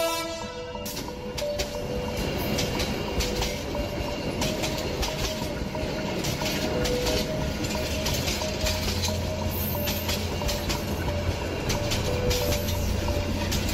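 A train running in a cartoon sound effect, with a steady loud rumble and rhythmic clatter of wheels on rails and a sustained horn tone, continuous and close for the whole stretch.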